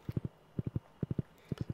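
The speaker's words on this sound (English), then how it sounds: "Jump on the horse." A horse's hooves clip-clop in Stardew Valley in four quick triplets of crisp, evenly spaced beats, close and steady with no talk over them.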